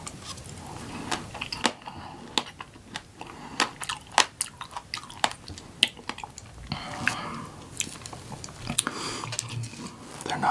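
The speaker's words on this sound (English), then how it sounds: "The seeds in these are kind of a pain sometimes, so I always chew a little bit lighter." Blackberries are chewed lightly and close up, with wet crunching and small seed pops in an uneven rhythm, between soft whispering.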